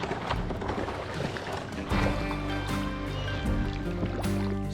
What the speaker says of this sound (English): which makes for some rough paddling